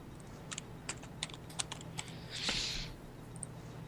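Keys tapped on a computer keyboard during an online tabletop game session: about a dozen separate, crisp clicks in an uneven rhythm, close and fairly quiet, with one brief soft rustle partway through.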